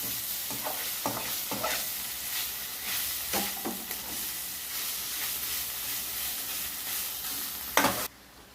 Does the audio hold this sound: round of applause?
no